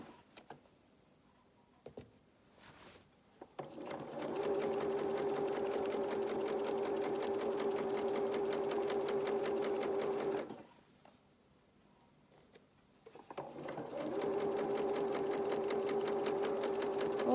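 A sewing machine stitches a construction seam at a 2.2 stitch length, running in two long, steady, whirring bursts with a brief pause between them and no talking.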